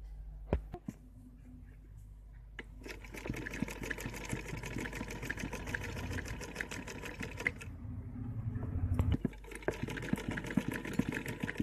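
A sewing machine stitches around the back neck of a blouse with a fast, continuous mechanical chatter, running at a fairly quiet level with brief slowdowns and pauses.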